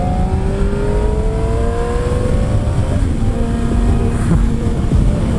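A Yamaha R6 sport motorcycle engine revs up through the gears, a steady loud drone with pitch rising and then dropping at each upshift, continuous and close with strong wind noise.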